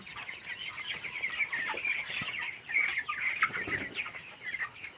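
Broiler chickens on a poultry farm cluck and chatter steadily as a dense flock, with overlapping calls filling the clip at moderate loudness and no talking.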